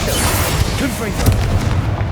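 A Confringo fire spell goes off in Hogwarts Legacy during a fight with a troll, landing as a loud, dense explosive boom with a rumbling low end and burst noise throughout, under a shouting voice.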